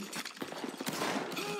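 A massed musket volley in a Roblox Napoleonic battle game cracks out as a dense, ragged cluster of overlapping shots, loud and close, with a rough smoky wash of noise trailing after the first reports.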